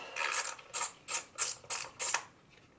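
Ratchet loosening a coil pack screw on a 2012–2019 Chrysler 300 V6, six close, crisp bursts of rapid clicking in a steady rhythm against a quiet background.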